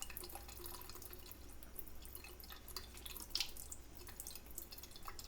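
Tap water runs and drips over fresh tomatoes held in a container in a sink while a summer salad is prepared, a steady close trickle with scattered drips and splashes and no voices.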